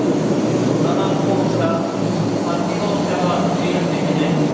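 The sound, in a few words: 500 series Shinkansen bullet train, Kodama 854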